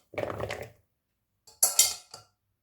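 Cooled, cooked potatoes for oven-baked French fries tip into a bowl in two short, close clattering bursts, with a brief quiet pause between them and no talking.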